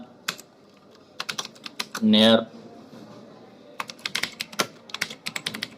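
An address is typed on a computer keyboard in quick, close clicking runs. A brief spoken word interrupts the typing partway through before the tapping resumes.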